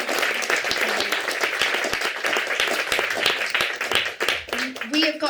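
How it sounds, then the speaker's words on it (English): An audience at a sensory theatre symposium claps for a panel, steady applause filling the room with a voice speaking over it. "can we give our panel a lovely round of applause?"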